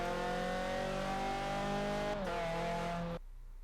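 Alfa Romeo 4C racing car engine in Forza Horizon 4 revving hard under acceleration, a loud steady harmonic whine rising in pitch, briefly dipping at a gear change, then cutting off abruptly near the end.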